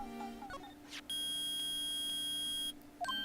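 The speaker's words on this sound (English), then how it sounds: "it's beeping. The metal detector found something." A loud, steady electronic beep tone from a metal detector in the video game Phoenix Wright: Ace Attorney holds for about a second and a half, preceded and followed by short chirping synthetic blips, with no talking.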